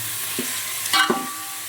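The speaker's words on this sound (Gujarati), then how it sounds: "તો અત્યારે ડુંગળી તળવાનું કામકાજ શરૂ છે" Onions fry in oil for a Gujarati whole-onion curry, giving a steady soft sizzle with a few brief scraping stir sounds close by.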